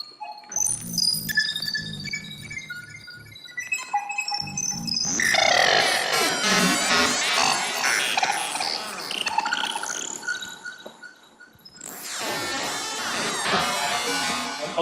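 Modular synthesizer patched into feedback, producing space-like electronic sounds: chirping, twittering tones and dense buzzing textures that swell, cut out abruptly near the end, then return loud.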